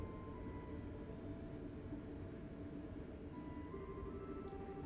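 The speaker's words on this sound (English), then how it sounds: "That's a train, sorry if you hear it." A passing train heard as a low, steady rumble that fills the whole clip at constant, fairly faint volume, with no talk over it.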